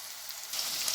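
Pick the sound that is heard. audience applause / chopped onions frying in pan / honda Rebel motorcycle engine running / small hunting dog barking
chopped onions frying in pan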